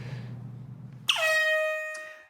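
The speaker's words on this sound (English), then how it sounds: "Like the air horn." A single loud air horn blast kicks in abruptly and holds steady for over a second, tapering off, after a few moments of low murmuring background.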